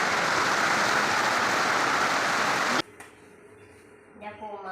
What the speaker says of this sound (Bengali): তোমরা খালি বৃষ্টির জোরটা দেখো বন্ধুরা